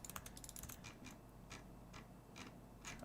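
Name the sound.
typing on a computer keyboard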